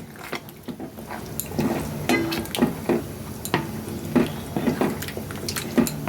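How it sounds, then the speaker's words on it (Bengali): Mutton and onions stirred in a pan: a spoon pushes the pieces through the oil in repeated scraping strokes with wet squishing and a low, steady sizzle, close and wordless. "এবার আমরা ভালোভাবে মটনটাকে এর সঙ্গে মিশিয়ে নেব।"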